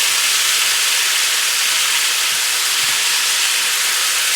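Steam is released from a pot of pork belly and red kidney beans, producing a loud, continuous, even hiss that fills the whole stretch without any voices.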